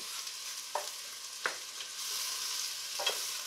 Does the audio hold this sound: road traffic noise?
no